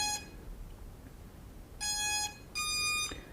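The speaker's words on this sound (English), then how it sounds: "he told me that some do make this louder chime sound" A Hubsan Zino drone powering up gives a short beep followed by two louder sustained electronic tones in quick succession, each roughly half a second, over quiet room noise.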